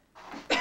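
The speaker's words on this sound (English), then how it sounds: "Besides, I like to cough." A person gives a short, close double cough, two quick raspy bursts, the second louder, with no talk.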